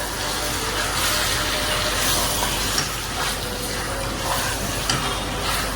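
Spice-marinated food (ginger, garlic, turmeric, chilli, cumin, garam masala) fries in oil with a steady, dense sizzle that runs unbroken throughout, close and loud with no voices.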